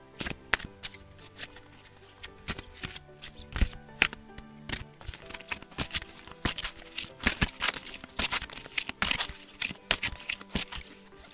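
Oracle cards are shuffled and drawn at close range, a dense run of soft riffling flicks, slaps and papery snaps that grows busier in the second half.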